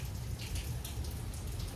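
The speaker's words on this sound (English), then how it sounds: "but it's raining." Steady rain falling outdoors, a dense continuous patter of drops on surfaces, even and unbroken throughout with no voices.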